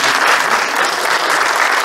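Audience at an awards ceremony applauding steadily, a dense, even wash of clapping held at constant loudness throughout, with no voices over it.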